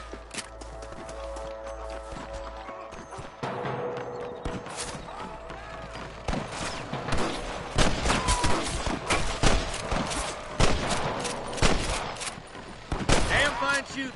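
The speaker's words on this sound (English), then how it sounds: "I can hear more gunshots." Shootout in the Red Dead video game: rapid, dense volleys of gunshots grow louder and busier toward the end, with hoofbeats and occasional voices in the mix.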